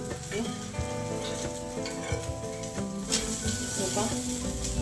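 A thin rice flour ghavan sizzles on a hot pan and is flipped over, a steady crackling fry with scraping touches, partly buried under tonal background music.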